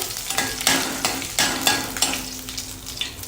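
Curry leaves and two whole dried red chillies crackle and sizzle in hot oil as a tempering for sambhar, a loud close frying hiss with sharp bursts and spoon stirs that gradually settle.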